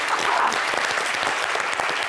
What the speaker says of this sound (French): On va applaudir Chola.